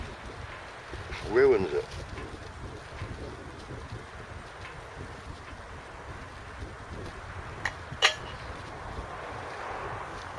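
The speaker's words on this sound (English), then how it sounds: "That wind keeps kicking up and it's cold." Wind gusting on the coast during a sea-fishing trip at low tide, a steady rushing buffet across the microphone with a few sharper bursts, while a person speaks briefly.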